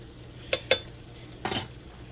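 A spoon works broth and rice together in a container, giving two quick clinks followed by a short scraping stir, close by with no talking.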